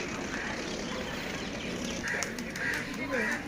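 Native ducks in a public park in Dubai quack in a few short, nasal bursts toward the end, heard at moderate distance over steady outdoor background noise.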